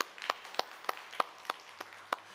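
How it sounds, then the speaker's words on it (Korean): Scattered single claps from a congregation at a Sunday church service, about seven faint, evenly spaced hand claps in a quiet room. "우리 옆 사람을 축복하고 박수합니다."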